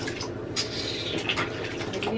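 Water from a bath is poured out for rinsing, a close, steady splashing trickle with small drips and gurgles running throughout.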